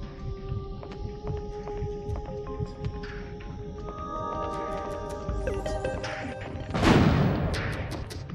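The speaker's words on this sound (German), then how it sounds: "Ach, das war die Sprengladung oder was?" An in-game demolition charge explodes in Alien Trilogy on PS1, a loud burst swelling out of steady game noise and clanking effects near the end.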